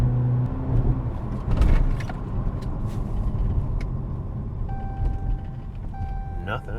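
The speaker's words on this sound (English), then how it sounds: "let me get up to about 55 miles an hour, then I'll hit the brake" A Chrysler 200 driving at about 55 mph with a loud, steady road and engine rumble, then braking, with a faint tonal whine near the end; a voice talks over it.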